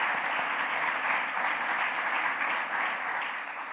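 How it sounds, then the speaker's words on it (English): A business-luncheon audience at an Economic Club of Canada event breaks into a sustained, even round of applause, fairly dense and steady until it begins to thin out. "Please join me in giving them a hearty round of applause."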